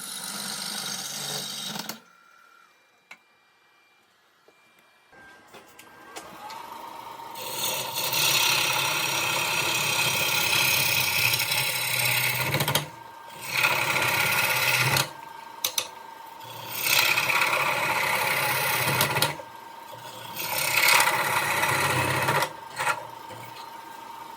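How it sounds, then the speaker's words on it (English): A bowl gouge cuts into wood spinning on a lathe while roughing out a hollow form, loud sustained shearing and whirring in long passes broken by short pauses, after a quieter start as the lathe gets going. "I'm going to start opening up the center here with just a bowl gouge"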